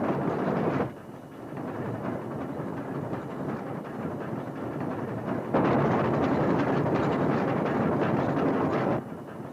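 Passenger train rolling along the rails on a run between Midvale and Deadwood, a steady loud rumble and clatter that eases slightly then swells again before dropping off near the end; no talking.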